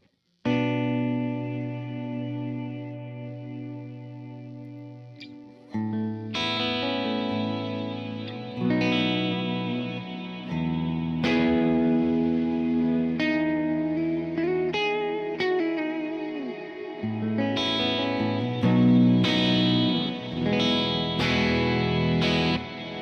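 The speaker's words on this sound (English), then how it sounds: "It sounds like a stringish reverb." Electric guitar played through a Kemper profiler with a strings-style reverb, sustained chords and notes blooming into a lush, washy tail that swells and overlaps, loud and continuous with no talking.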